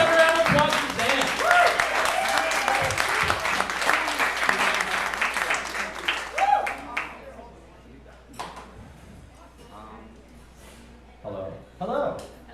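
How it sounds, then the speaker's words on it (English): An open mic café audience applauds, loud sustained clapping with cheers that fades after several seconds, followed by a speaker talking near the microphone. "Let's have a round of applause for Zan."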